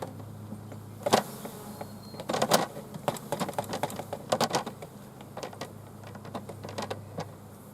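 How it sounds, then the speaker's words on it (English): Honey bees buzzing around a hive during a package bee installation, a soft steady hum with a low drone, overlaid by close clicking and scraping of hive equipment being handled. "Yeah, there's still quite a few bees in there."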